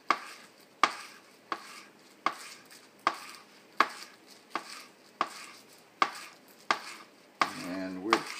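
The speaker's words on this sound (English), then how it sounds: "the last thing I'll prepare here will be some fresh scallions, green onions." A knife chops fresh scallions (green onions) on a cutting board in about eleven sharp, evenly spaced strokes, close and clear, with a brief clatter near the end.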